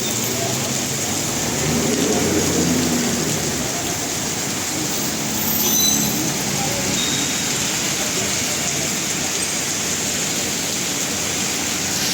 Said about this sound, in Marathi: तुम्ही पाहताय हा टिळक रोड सगळा पावसाने तुडुंब भरला आहे